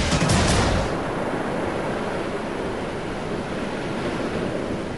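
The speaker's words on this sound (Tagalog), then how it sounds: "Sa laki ng mga alon" Large ocean waves crash on the Ilocos Norte shore, a loud burst of breaking surf up front giving way to a continuous roaring wash mixed with wind buffeting the microphone, with no voices.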